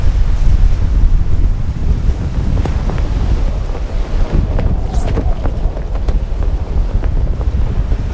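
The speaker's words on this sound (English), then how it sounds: "Soon the wind accelerated to reaching over 50 knots. The sea state rapidly got more violent" Storm force winds over 50 knots roar across a violent sea near the shallow shores outside Haugesund, with loud wind buffeting the microphone and heavy waves crashing continuously, close and unbroken.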